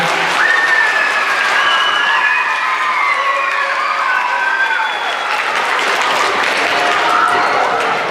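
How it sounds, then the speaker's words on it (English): An audience at a Lumbee tribal cultural presentation gives loud, continuous applause for the full stretch, with cheering, whoops and children's shouts rising over the dense clapping. "let's give them another round of applause, everybody"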